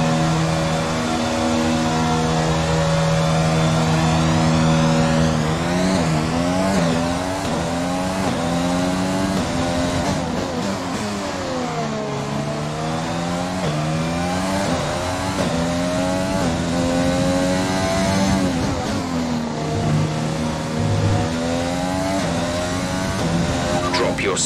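Formula 1 car engine in the F1 2020 racing game at the Canada circuit, revving hard with rising and falling pitch sweeps as it accelerates and shifts gears, loud and continuous throughout.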